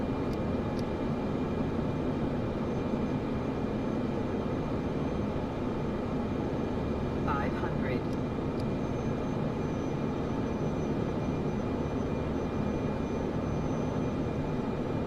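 Honda eVTOL aircraft in Microsoft Flight Simulator throttling back toward idle, a steady, dense engine and rotor drone with a faint high whine, continuous and even throughout, no talking.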